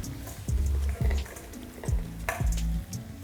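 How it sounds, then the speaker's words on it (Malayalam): Crispy fried sweet corn is stirred into a pepper masala in a pan with the flame off, giving repeated scraping and rattling strokes of the spoon with a soft sizzle underneath, steady and close. "നമുക്ക് ഫ്ലെയിം ഓഫ് ചെയ്ത് വറുത്ത് വെച്ചേക്കുന്ന സ്വീറ്റ് കോൺ ഇതിലോട്ടിട്ട് മിക്സ് ചെയ്തെടുക്കാം"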